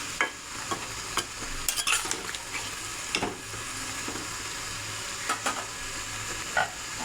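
A bottle gourd and hilsa curry cooking in a pan, with a soft continuous bubbling sizzle and a few faint scrapes and clinks of stirring, quiet throughout.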